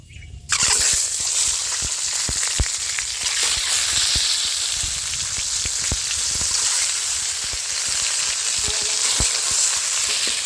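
Eggs frying in a pan in a village kitchen, a steady loud sizzle and crackle running throughout with sharp spitting pops scattered across it, no voices.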